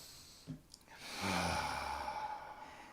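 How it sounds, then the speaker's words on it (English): One slow, deep breath is drawn in softly and then released as a long, audible sigh, close and quiet with no talking. "Take a nice, slow, deep breath."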